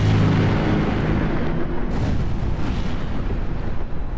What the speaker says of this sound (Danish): De skyder og bomber.